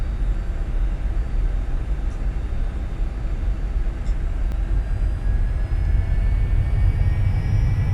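Twin jet engines of a Cessna Citation 550 roar steadily at takeoff power in the X-Plane 11 flight simulator, a loud, constant broadband rumble with faint whining tones above it and no talking.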